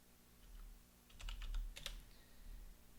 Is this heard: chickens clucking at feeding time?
no